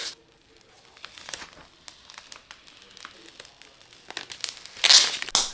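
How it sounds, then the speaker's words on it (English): Protective plastic film is peeled off a new PC case, giving soft crinkles that build into a louder crackling tear near the end, close and without talk. "we're gonna peel this cover off of the PC case"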